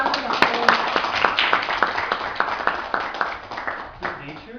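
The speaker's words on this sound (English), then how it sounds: "another big round of applause" A small audience claps for a few seconds at a humorous speech event, a moderately loud patter of hands that gradually thins out, with a voice speaking over it.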